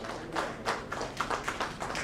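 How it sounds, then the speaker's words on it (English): An audience applauds a panel taking the stage at a banking conference, scattered hand clapping from a modest crowd, fairly quiet and somewhat distant, with no talking. "may I request all of you to give a loud round of applause for all of them"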